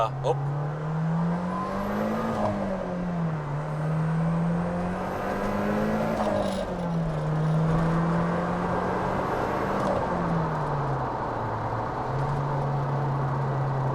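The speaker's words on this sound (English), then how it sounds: "So boom, up in 6th gear, just cruising along on the highway here" Nissan Silvia S15 Spec R with a six-speed manual cruising in sixth gear on a highway, a steady engine drone with slight pitch rises and dips under continuous road and wind noise, with someone talking over it.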